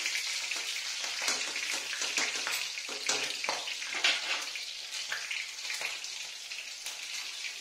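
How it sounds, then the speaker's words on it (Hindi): Green chilies, broken by hand, fry in a pan for Bihari garlic potato bhujia, giving a steady, close, continuous sizzle and crackle with small pops and no talking. "मैं इसको बस ऐसे हाथों से तोड़ूंगी और इसको डालूंगी। थोड़े से ये भून जाए।"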